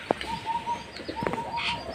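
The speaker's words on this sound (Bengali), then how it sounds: "দেখুন কেমন পায়রাগুলো ঝাঁপিয়ে পড়ে খাচ্ছে" Soft pigeon coos come faintly through a hazy outdoor background on a hot May day, with a few brief chirps and light bumps as pigeons rush to feed and drink water.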